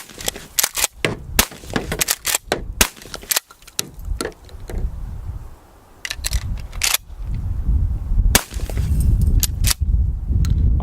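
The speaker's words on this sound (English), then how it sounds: "But instead of long range with the shotgun, we have 2 small pieces of cinder block with the license plate." A shotgun is fired at small cinder block pieces and a license plate outdoors, producing a dense series of sharp, loud blasts and cracks that come in quick clusters across the whole stretch.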